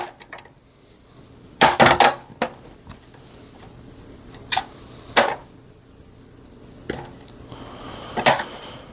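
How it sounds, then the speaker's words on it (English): Chopped onions dropped by hand into a foil pan while making beer brats, giving a handful of close, crinkly rustling hits spread out over several seconds against a quiet background. "Next, we're just going to throw them in our foil pan here."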